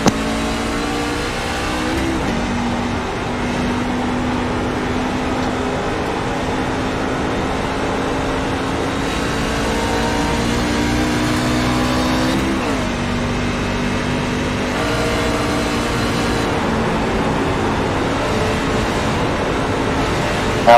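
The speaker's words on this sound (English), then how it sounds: "And I'll go silent again so you can hear Mark get up through the gears here." A race truck engine in the iRacing sim roars steadily as it climbs through the gears, its pitch rising and dropping at each upshift over about twenty seconds of continuous, loud onboard sound.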